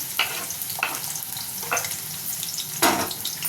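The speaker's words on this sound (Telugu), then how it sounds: "ఉల్లిపాయ ముక్కలు మంచిగా ఫ్రై చేసుకోవాలి" Sliced onions frying in hot oil with a bay leaf, clove, cardamom and a cinnamon stick, a steady close sizzle broken by four bursts of stirring or spatula scrapes.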